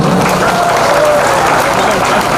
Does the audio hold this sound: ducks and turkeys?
no